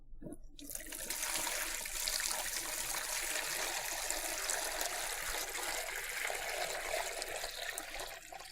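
Water is poured steadily into a tabletop reservoir model, a soft continuous splashing trickle that starts abruptly and keeps going at an even, fairly quiet level with no talking.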